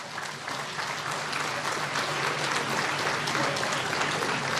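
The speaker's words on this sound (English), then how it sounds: "Can we give them a hand of applause?" Sustained, dense applause from a large crowd at a keynote address on Robben Island, steady and loud throughout with no pauses.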